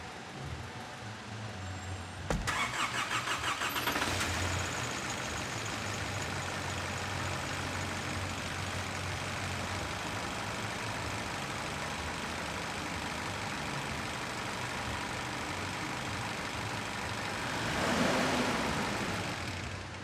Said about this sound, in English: I'm going to start this car now